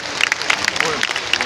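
Audience applause at Atal Fest 2025 in Cuttack, a steady burst of clapping from a crowd held at an even level for a moment.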